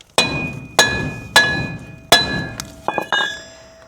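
Sharp metallic hammer strikes on a stuck metal part of a 1976 Ford F250 ring out one by one, about five heavy blows with ringing overtones, followed by a couple of lighter clinks, close and loud.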